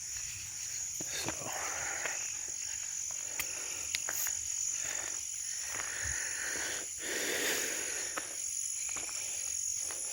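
Insects chirp continuously at night in a cemetery, a shrill, steady high trill with softer croaking calls and faint rustles underneath.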